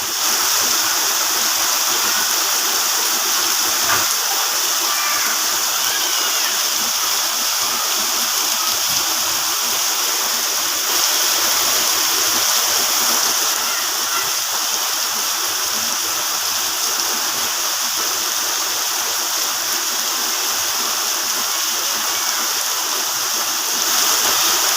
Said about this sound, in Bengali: দেখুন কি আকারে বৃষ্টি হচ্ছে, আমার কাছে বেশ ভালো লাগছে বৃষ্টি